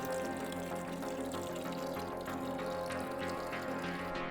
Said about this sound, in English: But coolant coming out already. Yep. There we go. Pouring out.